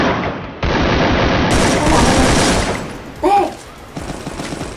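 Bursts of rapid automatic gunfire from a shooter video game crackle loudly and close, stopping and restarting, while someone talks over the shots.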